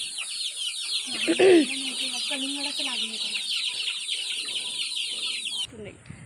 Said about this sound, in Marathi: ह्या कोंबड्या बघ.